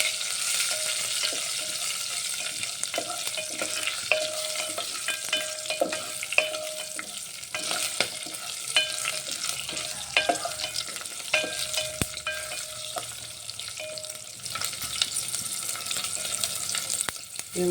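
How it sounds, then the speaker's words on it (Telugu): Dried red chilies, green chilies and curry leaves fry in hot oil, giving a continuous bright sizzle with frequent spatula taps and scrapes against the pan, close and steady for the whole stretch. "ఇప్పుడు ఇందులో ఎండుమిర్చి, పచ్చిమిర్చి, కరివేపాకు యాడ్ చేసుకుందాం. ఇది కూడా కొంచెం ఫ్రై అవ్వాలి."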